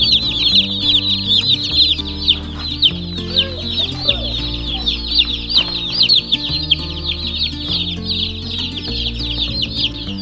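Cornish cross broiler chicks set into a brooder give a dense, continuous chorus of high-pitched peeping, with lower clucking-like calls mixed in, close and fairly loud.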